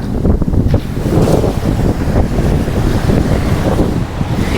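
Waves roll onto Rishikonda beach under strong wind that buffets the microphone, a loud, steady roar of surf and gusts with no one talking.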